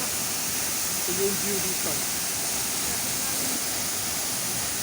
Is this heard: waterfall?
yes